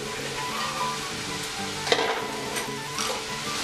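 Sweet potatoes, mushrooms, peppers and carrots are stirred in a pot over a continuous sizzle, with intermittent scraping strokes and a sharp knock, close and moderately loud, with no voices.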